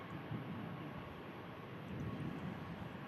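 Ryanair airliner on its takeoff roll bound for Malaga, heard as a steady, broad distant roar that holds even throughout without voices.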